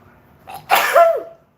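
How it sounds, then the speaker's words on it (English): One loud allergy sneeze, a short breathy intake followed by a sharp explosive burst that trails off, close to the listener with no talking. "I gotta sneeze"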